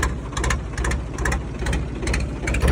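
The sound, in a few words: tractor engine running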